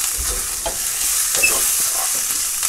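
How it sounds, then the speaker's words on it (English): Pork and egg fried rice with sweet chili is stirred in a hot pan, giving a bright, constant sizzle with soft scraping strokes close by. "Stir them up."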